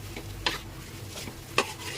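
A mash frying in a wok sizzles steadily while a flat spatula stirs it, with two sharper scraping strokes against the pan at a moderate, close distance.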